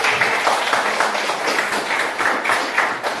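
A class of students claps together in a classroom, producing a quick, rhythmic burst pattern of hand claps that repeats at a steady pace at a moderate, fairly close level.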